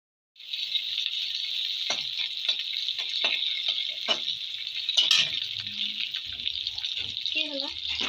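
Pui shak (Malabar spinach) chorchori with potato, pumpkin and lentil dumplings sizzles steadily in a pan with fennel seeds, a broad constant frying hiss broken by a few scrapes of stirring, while a person speaks briefly over it.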